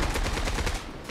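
Rapid bursts of automatic gunfire crackle loudly and continuously in the online shooter game Zula.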